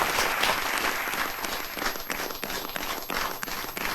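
Applause at a Navratri special Hindi poetry gathering welcoming poet Kavita Kiran: a dense, continuous crowd clapping that stays loud and close for the whole stretch, with no voices over it.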